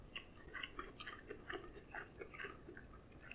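Steady close chewing of a McDonald's Shanghai snack wrap, soft rhythmic mouth sounds repeating for a few seconds with no talk.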